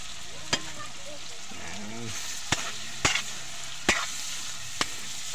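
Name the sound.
fried fish added to sizzling pan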